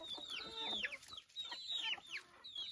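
Grown hens in a small rural flock cluck close by in quick repeated bursts, a few bright squawks standing out, with no talking.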